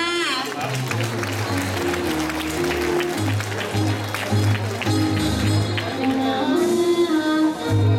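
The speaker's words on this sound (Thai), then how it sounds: "ขอเสียงปรบมือหน่อยค่ะ" Audience applause at a Loy Krathong pageant at Wat Dhammaram in Chicago, a steady, dense clatter of many hands that runs the whole time, mixed with music and an amplified voice.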